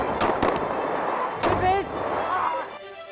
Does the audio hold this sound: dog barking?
no